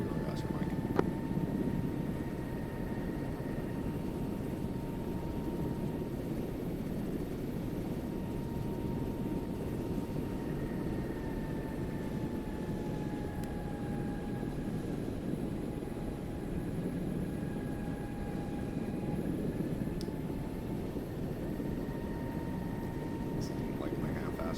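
A helicopter flies somewhere to the west during a military operation, its steady broadband rotor and engine drone continuous and fairly distant, with thin tonal whines drifting through, while radio chatter and voices talk over it.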